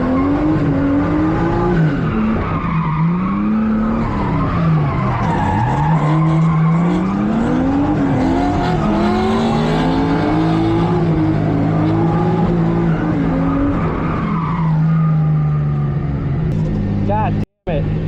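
Tires squeal in long, wavering, pitch-bending howls as a race car drifts through a chicane with the handbrake dragged at a drift event. The engine drones loudly underneath, and a voice talks over it near the end.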